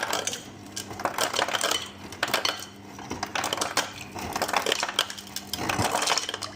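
Ice cubes clink and clatter against a bowl of boiled eggs cooling in water, in a quick, irregular series of close, bright knocks, with no talking.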